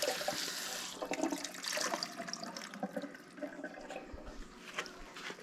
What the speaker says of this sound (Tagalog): Pwedeng hugasan ng bahagya para maalis ang dugo.